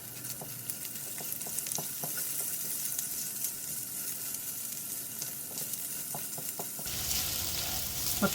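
Corned beef fries in a pan with a steady, close sizzle, punctuated by light taps and scrapes of stirring.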